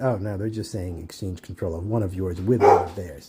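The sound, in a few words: dog barking in the background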